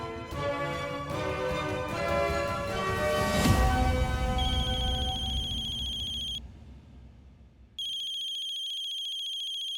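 A telephone ringtone chimes in a repeating pattern, loud and close, over a swelling musical backdrop. It cuts off for a moment near the end, then starts ringing again.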